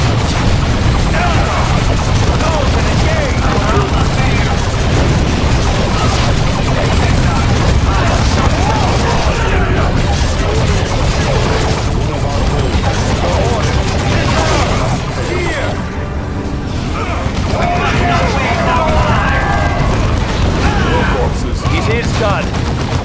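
Battle in Warhammer 40,000: Dawn of War 2 against Eldar forces, with continuous loud machine-gun bursts, gunfire and heavy explosions layered densely, while unit voices speak over the chaos.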